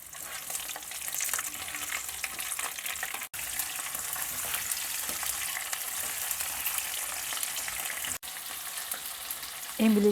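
Green chillies softening in a hot pan give a continuous bright sizzle and crackle for several seconds, broken by two short silent gaps, with a faint stirring knock near the end.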